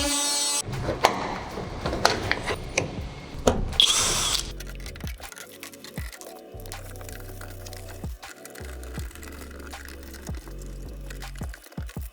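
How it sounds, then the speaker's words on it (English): A power drill whirs in repeated short bursts, biting into material with pauses between holes, plus some rattling and clatter early on. "Now that I'm already drilling here"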